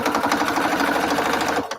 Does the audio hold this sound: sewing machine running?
yes